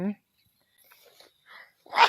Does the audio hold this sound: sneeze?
yes